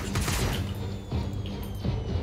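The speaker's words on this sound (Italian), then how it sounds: "sparo solo con quel cannone di destra" A spaceship's right-side cannon in Star Citizen fires in rapid, loud bursts, each shot a harsh crackling blast, with three heavy volleys clustered closely together.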